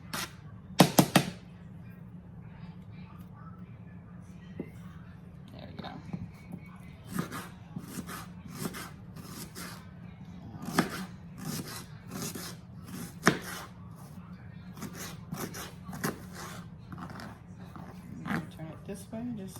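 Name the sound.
chopping an onion with a knife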